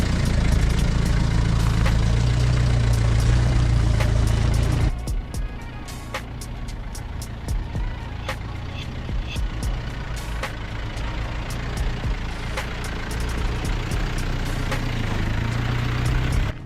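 An Isuzu MU four-wheel drive fitted with a front locker, manual locking hubs and custom barwork idles with a steady low engine rumble; the tone drops slightly after a few seconds, with faint clicks and knocks over the continuous hum.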